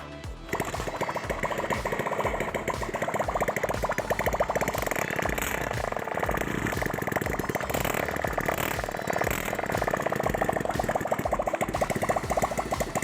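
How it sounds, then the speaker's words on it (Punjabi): A Bajaj Platina motorcycle engine drives a geared high-pressure pump, making a loud, continuous mechanical drone with a rapid rattling chug, close by and steady, with no speech. "ਇੰਜਨ ਆਪਣਾ ਸਟਾਰਟ ਹੈ"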